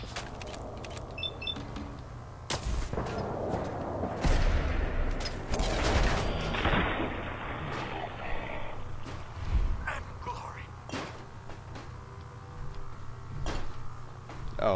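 Enemy gunfire in the video game Fallout 4 cracks out in a few scattered bursts amid other game noise, some shots sharp and loud, others lighter, spread unevenly across the stretch.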